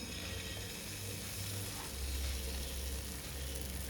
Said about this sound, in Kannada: ಹಾಗೆಯೇ ಇನ್ನೊಂದು ದೋಸೆಯನ್ನು ತಿರುಗಿಸಿ ಹಾಕಿ ಫ್ರೈ ಮಾಡ್ತೀನಿ.